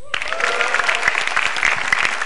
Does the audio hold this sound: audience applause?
yes